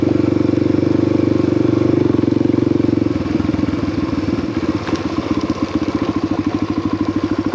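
A 2020 Honda CRF250L Rally single-cylinder motorcycle on a trail, its loud close engine droning steadily and then shifting to a rapid throbbing putter, with some clatter and knocks as it rides.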